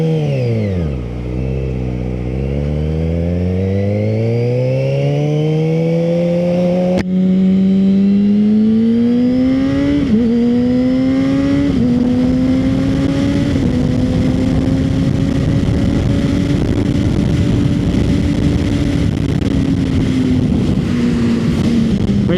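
Inline-four sportbike engine revving up from idle through rising gear-like sweeps, then holding a steady loud drone, close and continuous with no talk.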